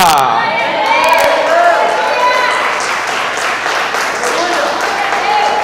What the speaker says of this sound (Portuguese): você aplaudisse também ao Senhor